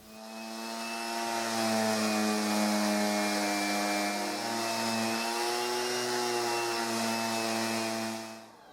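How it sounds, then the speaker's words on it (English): Orbital sander running over wood filler on a handmade wooden star, a steady loud droning whine with strong even tones, spinning up and running continuously for several seconds before cutting off. "this wood filler is very easy to sand, even more if I use a orbital sander"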